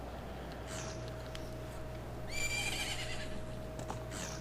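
A horse whinnies in the video game Zelda: Majora's Mask, a single bright, shrill neigh in the middle of the clip over a low steady game hum and faint ambient sounds.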